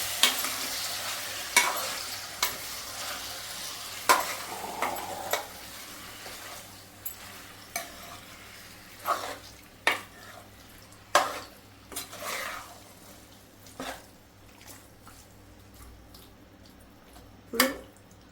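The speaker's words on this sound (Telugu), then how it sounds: "సో ఈ చికెన్ని బాగా కలుపుకోవాలి ఆనియన్స్ అంతా మిక్చర్ పెట్టి." Chicken and onions stirred in a sizzling pan for chicken curry, with a spatula scraping and clattering against the metal in irregular strokes over a constant close frying hiss, and no talking.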